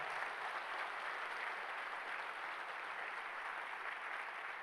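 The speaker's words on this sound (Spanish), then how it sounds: "Cuando vayan a aplaudir al Señor Jesús, apláudalo de verdad." Congregation clapping for Jesus during a church service, a steady, even wash of many hands that holds at a moderate level throughout without voices breaking through.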